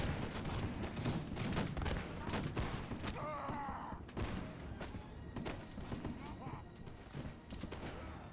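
Musket volleys crash through a battle of British line infantry and Scots with fixed bayonets in a Napoleonic-era strategy game: dense, overlapping rolling gunfire that stays loud and continuous throughout.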